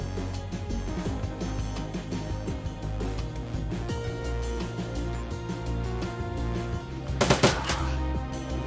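Turrets firing in the video game Shadowrun Dragonfall: rapid, continuous automatic gunfire bursts over a dense game soundtrack, with a louder cluster of shots near the end.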